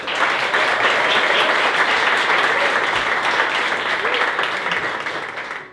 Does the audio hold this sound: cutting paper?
no